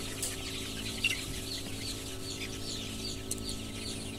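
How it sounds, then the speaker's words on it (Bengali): Young desi chickens about 35 days old cluck softly and sporadically in the background, with a steady low hum underneath and no talking. "মুরগিগুলো কীরকম চঞ্চল"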